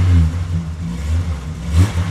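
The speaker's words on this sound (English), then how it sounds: "the engine's still running nice and smooth" The engine of a 20-year-old Jeep revs close by with a deep, rumbling note that swells, settles back, then rises again briefly, running smoothly without any talking.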